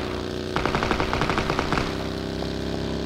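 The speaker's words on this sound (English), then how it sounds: "I'm taking sniper shots from the left too." Gunfire in the video game PUBG, a rapid run of loud regular shots for about a second and a half over a steady droning game background, then fainter scattered sounds.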